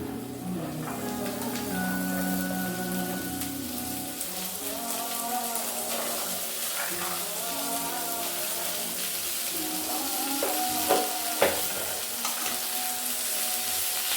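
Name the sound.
vegetables frying for tawa pulao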